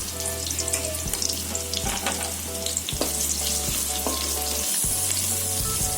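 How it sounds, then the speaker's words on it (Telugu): Chopped onions with a little cumin frying in hot oil for a chicken gravy curry, a continuous close sizzle with repeated stirring scrapes, accompanied by background music. "ఆనియన్ని ఫ్రై అవ్వాలి."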